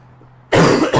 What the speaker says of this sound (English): I really hope I'm not coughing directly into the mic.